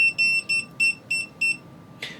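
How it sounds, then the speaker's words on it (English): An EMF meter set to RF mode sounds its alarm about a foot from a cell phone. Five short, shrill electronic beeps come in an even, quick rhythm, close and clear, followed by a brief click. "We're getting that alarm level on the RF setting about a foot away from the cell phone."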